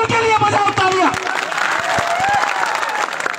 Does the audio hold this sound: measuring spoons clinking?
no